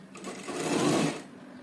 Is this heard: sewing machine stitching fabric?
yes